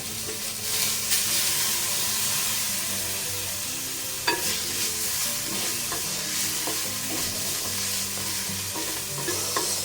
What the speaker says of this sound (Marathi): बघा इथे मसाले छान परतले गेलेत